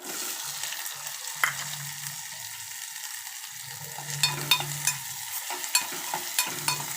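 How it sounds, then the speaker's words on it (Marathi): Onion frying in four spoons of hot oil with asafoetida (hing) for Malvani chicken liver, a steady sizzle under repeated scraping stirs and spoon clicks on the pan, close and alone without talk. "कांदा मऊसा होईपर्यंत आपण असं परतून घेणार आहोत"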